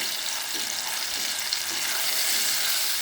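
Fenugreek (menthe) palya vadas frying in hot oil, giving a steady, close, continuous sizzle with a bright hiss throughout and faint bubbling underneath, no voices.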